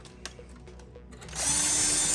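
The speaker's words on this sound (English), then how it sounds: "We're gonna drill." A power drill whirs into life after some quiet handling clicks, spinning steadily and loudly to clean gunk out of the holes in an Apple Macintosh PowerBook 180c laptop case, with no talking over it.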